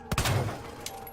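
Gunfire in Resident Evil 2 Remake, with a sharp close shot, a rumbling tail and a second fainter shot shortly after, no speech.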